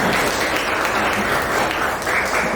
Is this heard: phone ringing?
no